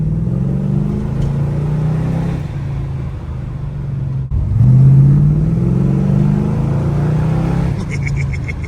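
A 1968 Plymouth Barracuda with a freshly built 318 V8 drives along a road, its low engine drone steady and close, rising briefly as the car accelerates midway before settling back.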